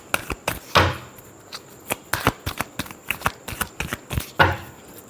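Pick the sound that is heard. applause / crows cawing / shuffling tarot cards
shuffling tarot cards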